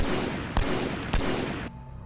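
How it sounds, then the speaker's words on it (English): Gunfire from a soldier spawned in Arma 3 with the OPTRE mod: two sharp, loud shots about half a second apart ring out over a dense rumble of continuous distant battle noise, which cuts away abruptly near the end. "I'm going to spawn a dude and just fire a few shots"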